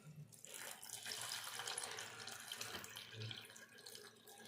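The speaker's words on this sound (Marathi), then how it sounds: "मी छान धुवून घेते ही भाजी" Water runs steadily from a tap while tender chickpea leaves are swished and rinsed underneath, a continuous splashing wash with no talking.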